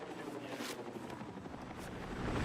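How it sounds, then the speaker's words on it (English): A helicopter flies overhead in a military shooter video game, its rotor drone a steady, moderately faint whir that swells slightly louder toward the end, heard alone without talking. "I hear a helicopter."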